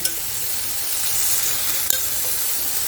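Garlic frying in a pan with tomato paste just stirred in, giving a steady broadband sizzle throughout with a sharp scrape or clink near the end, close and fairly loud, no talking.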